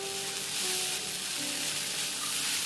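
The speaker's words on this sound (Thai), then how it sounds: "ผัดไปเรื่อยๆ จนผักสลด" Vegetables, including bean sprouts, sizzle and crackle in a hot pan as they're stir-fried until wilted, a steady bright hiss close by with no talking.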